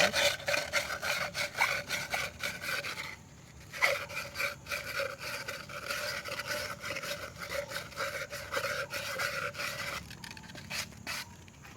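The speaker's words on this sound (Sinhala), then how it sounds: "මේක ඇතුළතත් මේ විදිහට පොලිෂ් කරගන්න" Inside of a cut glass beer bottle being polished by hand, a rapid, rhythmic rubbing and scraping that carries on steadily at close range with a few brief pauses.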